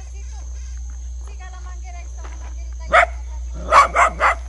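A dog barks in a yard along a roadside in Ecuador, three or four loud, close barks in a quick burst near the end, after faint background chatter and voices.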